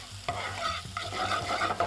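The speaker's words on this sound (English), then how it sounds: "Give this a nice mix up." A grated ginger mixture is stirred in a hot frying pan for Mumbai street food, with brisk scraping strokes over a steady sizzle, close up and without talk.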